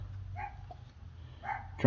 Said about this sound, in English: I wish the Chihuahua was down for barking.